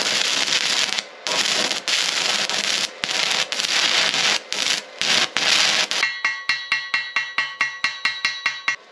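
An arc welder tack welds a cart with loud, sustained crackling and sizzling in several bursts broken by short gaps, ending in a quick series of short, evenly spaced pops.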